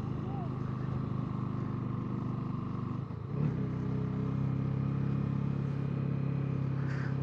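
A Honda CB300F motorcycle labours up a steep, foggy mountain road in low gear, its engine a steady close drone that surges briefly midway, with a voice talking over it.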